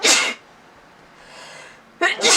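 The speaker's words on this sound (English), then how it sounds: "I'm going to sneeze." A person sneezes twice, loud and close, the two bursts separated by a quiet breath-filled pause.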